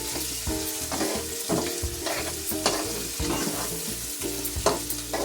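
Ridge gourd peel chutney cooks in oil, a busy sizzle with rapid, rhythmic stirring scrapes and knocks against the pan, close and fairly loud.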